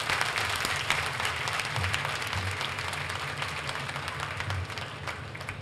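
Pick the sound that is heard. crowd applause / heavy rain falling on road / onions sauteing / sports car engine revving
crowd applause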